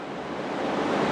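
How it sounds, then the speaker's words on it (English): Ocean surf washes in beside the pier at Folly Beach under steady wind, making a broad continuous hiss that is fairly loud and close, with no voices. "watching the waves come in. You probably hear the wind."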